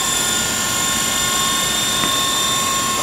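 Model helicopter with a bent main rotor shaft running nearby, a steady high whine with strong tonal harmonics and a brief blip near the end, no voices.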